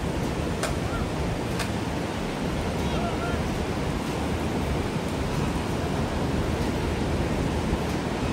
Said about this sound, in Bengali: গর্জন, সমুদ্রের গর্জন।